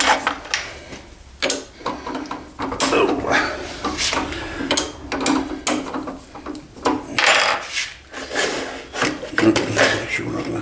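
A drill grinding and rasping through a scalloped wooden pen blank with a 27/64 bit, in uneven surges, close by, with scraping and mechanical rattling throughout.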